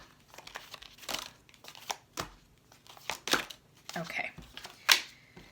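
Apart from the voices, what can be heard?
tarot cards being pulled and shuffled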